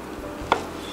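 A single sharp knife chop through mango against a cutting board, brief and close, over quiet background hum.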